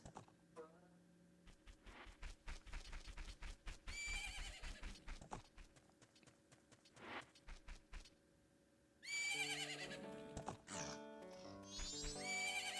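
A horse whinnies loudly several times between clopping hoofbeats, set against soft game music from Zelda: Majora's Mask at the ranch, with a final bright, drawn-out neigh near the end.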